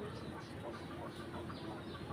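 Chickens and roosters cluck and chatter continuously in a busy, dense flock, with scattered calls rising over a steady barnyard background.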